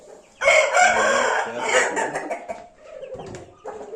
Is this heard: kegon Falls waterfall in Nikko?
no